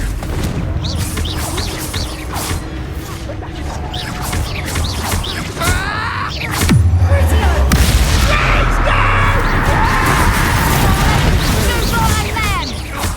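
Spell blasts and explosive booms from the Hogwarts Legacy video game, a loud crash and rumble midway amid clattering battle noise with voices shouting over it.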